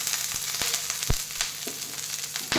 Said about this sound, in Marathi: हा गॅसवर कांदा भाजत आहे